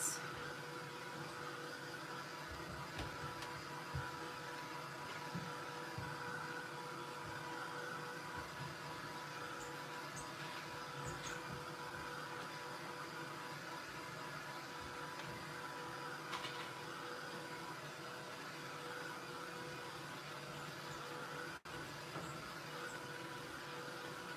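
A drying tool blows air onto a paint layer in an art journal, giving a steady, low, continuous whirring hiss that runs unbroken and fairly faint, with a few small clicks.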